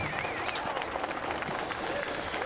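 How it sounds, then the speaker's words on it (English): A crowd applauds around the Brands Hatch circuit as the DTM podium presentations begin, with continuous distant clapping and cheering and a voice speaking over it. "the applause around the Brands Hatch circuit then as the podium presentations are about to get underway"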